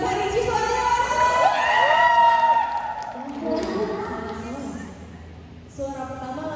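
Fans at a Lyodra Ginting meet-and-greet in FX Sudirman, Jakarta, shout and cheer loudly for a contestant, with a burst of high voices that fades into crowd murmur and talk.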